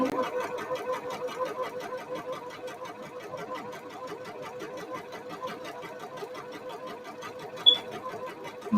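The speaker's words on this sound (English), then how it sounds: "you want to sew it a ½ inch above, walking it as you get closer, and then you back stitch and you forward stitch" A sewing machine runs steadily for about nine seconds, stitching a front or back dart on a shirt, with a fast even mechanical chatter and one brief click near the end, with no talk over it.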